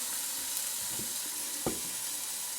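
A small test piece of homemade venison sausage sizzles softly in a frying pan, a steady quiet crackle with a few brief stirring or scraping sounds and no talk.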